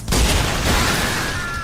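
Dante's pair of demon-slaying hand cannons, Ebony and Ivory, unleash a loud burst of gunfire, a dense barrage of shots blending into one sustained roar and a high ringing tail, with no talking over it.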